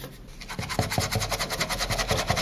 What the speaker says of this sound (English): You scrub a little, and then you rinse, and then you do it again.